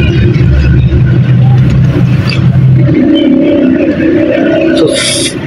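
Cars passing on a road near a cemetery, engines droning and revving close by, one vehicle's low hum shifting in pitch partway through.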